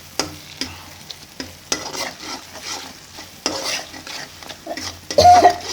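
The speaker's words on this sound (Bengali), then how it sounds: "আসলে সব মশলাগুলো ভালো করে ভেজে নিতে হবে।" Spices frying and being stirred in a pan for homemade dal vaji, with a steady sizzle broken by repeated scraping strokes of a utensil, close and fairly loud, with no talking.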